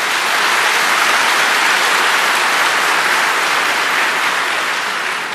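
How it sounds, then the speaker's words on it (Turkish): Dense, sustained applause from a large crowd, steady and loud throughout with no voices standing out. "Zaten bu alkışlar da onun kanıtı oluyor."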